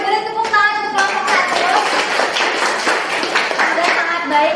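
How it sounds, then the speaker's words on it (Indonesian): Classroom clapping for a presenting student group, a loose patter of hands that starts after a voice and continues steadily under some murmuring. "beri tepuk tangan untuk kelompok"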